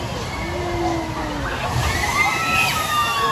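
Water sloshes and splashes across a walkway in a theme park ride's splash zone, a continuous rushing wash with sweeping ride whooshes, close and moderately loud.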